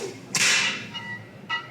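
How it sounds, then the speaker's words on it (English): A cartoon basketball swoosh effect: one loud, bright whooshing swipe that fades quickly, then a fainter short echo of the same swish about a second later, with no voices. "Cartoon basketball swoosh."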